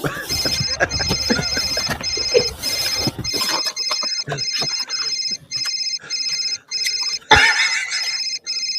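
Flip phone ringing with a repeating electronic ringtone in steady bursts, clear and fairly loud, with people talking and other noise over the first few seconds.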